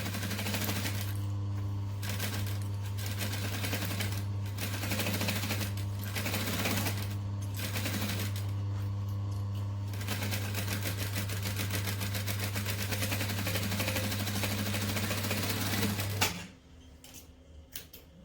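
A sewing machine stitches and backstitches around a fabric doll, a loud fast mechanical chatter with brief pauses and changes of pace, stopping near the end.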